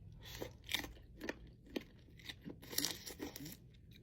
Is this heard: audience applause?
no